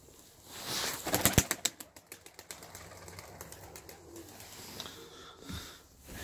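Pigeons in a backyard coop flutter and shuffle, with a burst of sharp wing claps and clattering early on, then soft scattered rustling and faint calls at moderate distance, no talking.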